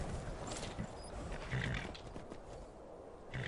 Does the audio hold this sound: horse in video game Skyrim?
yes